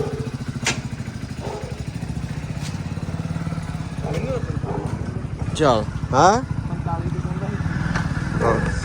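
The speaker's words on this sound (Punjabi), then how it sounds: "ਹੁਣ ਮੋਟਰਸਾਈਕਲ ਦੇ ਛੱਡ ਗਿਆ ਚੱਲ" A motorcycle engine runs with a steady throbbing rumble throughout while people talk over it, beside rice paddies.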